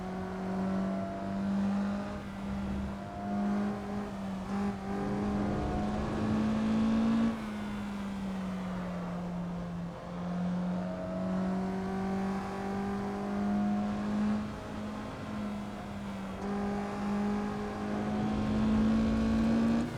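A Mazda MX-5 racing around the Lime Rock track, its engine droning steadily with a sustained hum that rises and dips slightly with throttle across laps, loud and close, with no talking.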